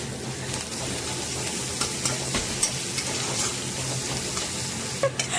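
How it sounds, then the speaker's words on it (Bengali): Ginger paste frying in hot mustard oil with mustard seeds, dried chili and curry leaves, a steady sizzle with occasional stirring clicks and small pops, close and continuous. "সরষের তেলে সর্ষ, শুকনো লঙ্কা আর কারি পাতা দিয়ে ভালো করে ভেজে তারপরে আদাটা দিয়ে দেবো"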